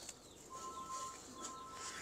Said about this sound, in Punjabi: ਕਬੂਤਰ ਤੇ ਬੜੇ ਜ਼ਿਆਦਾ ਹੈਗੇ ਨੇ